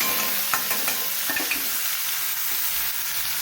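Onions, tomatoes, garlic and green chillies fry in a pan, a steady close sizzle with a few sharp stirring clinks and scrapes early on. Nobody speaks.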